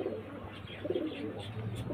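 Pigeons coo softly nearby in a low, rolling murmur under faint background noise, with a few rises in the brief stretch.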